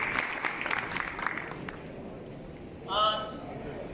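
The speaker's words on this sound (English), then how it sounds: "can you please give them a big round of applause?" Audience applause at a stage event, a burst of many hands clapping that fades out after about a second and a half, followed by quieter room sound and a short voice.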